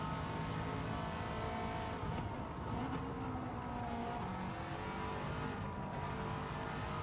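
Subaru Impreza WRX STI engine in Gran Turismo 7 on Tokyo Expressway, a loud sustained engine note with shifting pitch as the throttle comes back on, continuous and close, with no talk.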